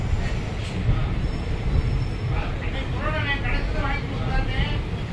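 The 16722 Madurai–Coimbatore Intercity express departs, a steady, loud rumble of wheels on rail with faint squeals, heard from on board with a voice talking over it.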